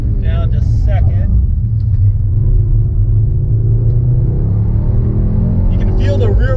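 A Mercedes-AMG GT 63 S 4-Door Coupe engine rumbles deep and loud after a downshift to second under hard braking. The low drone holds steady throughout, and someone talks over it at the start and end.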